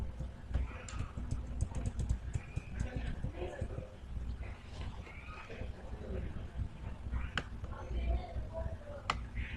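Quick, uneven clicks of a computer keyboard as text is typed in an office application, heard close and clear beneath steady talking in Hindi.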